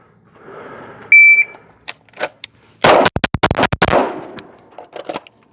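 A rapid string of gunshots is fired at a target, about eight sharp, loud reports in quick succession after a timer beep, followed by a few scattered fainter clicks and knocks.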